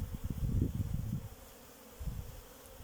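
Honeybees buzzing around a busy hive while collecting pollen, a dense low drone of many wings, louder in the first second and a half, easing, then swelling again near the end, with no speech.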